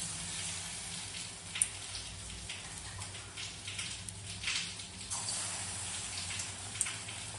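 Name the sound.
batter-coated cauliflower deep frying in white oil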